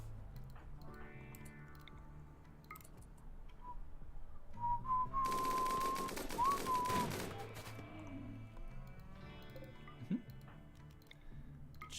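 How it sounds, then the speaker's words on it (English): Gunfire in the video game Rimworld, scattered shots under music with a dense burst of rapid fire midway and a whistling tone, then sparser shots. "Just keep shooting him."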